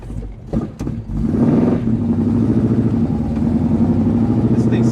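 A 1968 AMX with a 390 engine, four-speed gearbox and high-lift cam starts with a few sharp bursts, then settles into a loud, close, lumpy idle with a throbbing low rumble.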